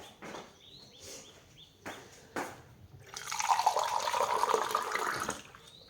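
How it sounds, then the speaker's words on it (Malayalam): A little water is poured into a cooking pot of jackfruit and chicken masala, a few clinks and knocks first, then a bubbling, gurgling splash of liquid that swells and fades near the end. "അപ്പോൾ ഇനി കുറച്ച് വെള്ളം ഒഴിക്കാം കേട്ടോ, കുറച്ച് ഒരു തുള്ളി."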